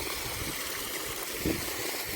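Rainwater still flowing from village fields after rain runs as a steady, soft trickling stream, close and continuous with no talk.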